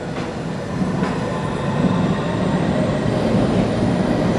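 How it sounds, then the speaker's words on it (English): An underground train rumbles past close by in a disused London Underground station, a steady loud roar of wheels and rails that builds slightly and holds, with no voices. "Incoming train, torches down."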